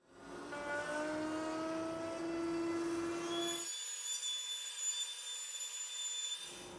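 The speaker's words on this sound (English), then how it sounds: "Here at the router, I'm using a 1/4 inch spiral flush trim bit." A router with a 1/4 inch spiral flush trim bit cuts a wooden subwoofer box panel along a template, giving a loud, steady high-pitched whine that holds for several seconds and then shifts to a thinner, higher tone.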